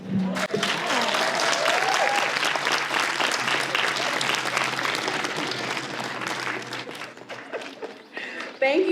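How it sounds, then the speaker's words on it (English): Audience at a literary competition reception applauding a young poet, dense sustained clapping from a sizable crowd, loud and close, thinning out near the end as a voice breaks in. "Let's give him another round of applause."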